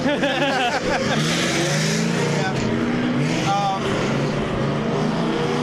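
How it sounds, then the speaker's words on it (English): Race cars roar around the raceway at PBIR during a birthday-bash event, engines rising and fading as they pass, with people talking nearby over the racing noise. "It's hard to hear with all these cars going around."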